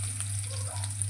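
Onion dropped into hot oil gives a steady, close sizzle with a crackling hiss that holds level through the short moment, no voices.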